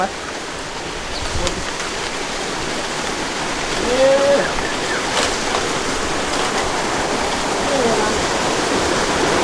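Steady roar of rushing water from a waterfall in a forest fills the whole stretch, with a few faint voices and small sounds over it.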